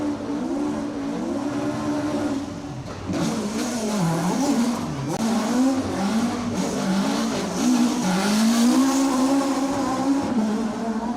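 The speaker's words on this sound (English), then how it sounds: "And Ian Jackson, that is, not quite getting things right around the donut." A rally car circles the donut at an asphalt stage of Rally Ceredigion, its engine revving up and down repeatedly with tyre noise, loud and fairly close, with no talk over it.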